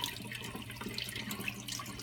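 Water is poured off settled seeds in a continuous, faint, splashy trickle with a steady low background hum, no voices.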